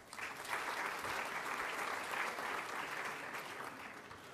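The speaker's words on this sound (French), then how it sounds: "Je crois qu'on peut applaudir ça." An audience at a formal event applauds in a sustained, even round of clapping that holds at a constant level and then eases slightly toward the end.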